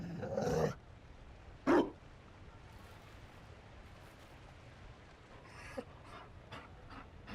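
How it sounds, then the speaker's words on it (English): Mabari war dog from Dragon Age: Inquisition, panting in short bursts with a sharp growl or bark near the start and faint huffs later, close by over a quiet game ambience. "You found a dog?"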